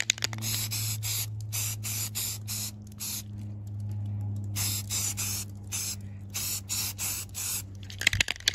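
An aerosol can sprays a second coat of primer onto a dome in short repeated bursts of loud hissing with brief silent gaps, close by, ending in a clatter.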